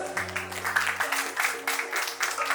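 Guests at a wedding ring ceremony applaud, a dense burst of clapping over a steady musical drone, with some voices mixed in.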